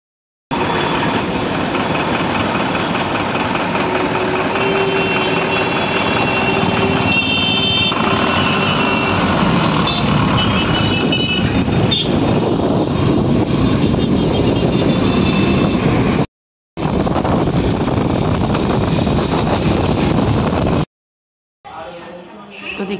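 Steady loud rumble and clatter inside a moving Dankuni local train, a continuous broadband roar with brief dropouts near the end, and voices talking faintly beneath the noise.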